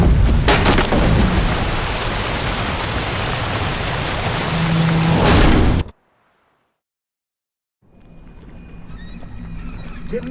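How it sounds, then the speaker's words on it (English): Heavy rainstorm with thunder aboard a boat at sea in The Witcher 3: Hearts of Stone, a loud continuous downpour with thunder rumbles that cuts to silence, then quieter rain returns. "Didn't bargain for no storm."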